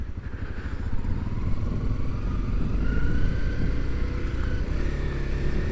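Motorcycle riding in Japan, an engine droning steadily with low rumble and shifting whine, close and continuous with road noise.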